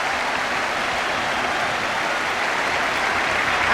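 Football crowd applauding and cheering at full time as Tottenham finish a lopsided home win over Bristol Rovers, a dense, steady roar of clapping from a large stadium filling the whole stretch without letup.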